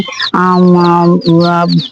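Native country chickens on a poultry farm give a loud, drawn-out call twice in close succession, near and clear with no talk over it.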